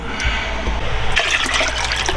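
A Wilcox Crittenden Skipper Type 8 marine head being pumped during repair, giving a steady sloshing, gurgling water rush with rhythmic surges that grow busier toward the end, close and fairly loud.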